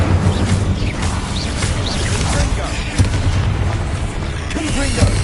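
The Incendio fire spell cast in Hogwarts Legacy on PS5 bursts out in repeated booming, whooshing blasts amid dense combat clamor, with voices calling out over the noise.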